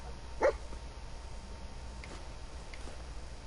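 The dog companion in the Fallout 4 video game gives a single short bark early on. It is faint and set against a low, steady game ambience.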